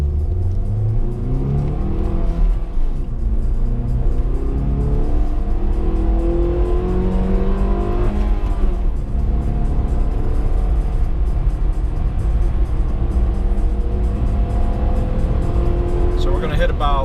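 A 9th generation Honda Accord with upgraded front brakes accelerates hard on a test run, its engine note climbing through several rising gear pulls over a constant loud road and wind roar, with someone talking over it.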